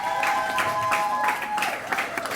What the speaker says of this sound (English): please can I have a round of applause for Triple O